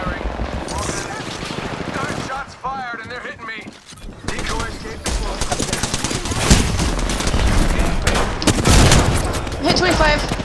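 Rapid automatic gunfire bursts in Apex Legends, loud sustained volleys with sharp cracks and booms, a player's voice talking over the shooting.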